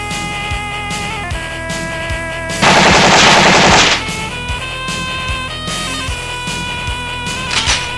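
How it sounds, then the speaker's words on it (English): Heavy machine gun from the Metal Slug arcade game firing in a dense, loud burst of rapid shots lasting about a second and a half, set against game music with repeated percussive hits. "Heavy machine gun!"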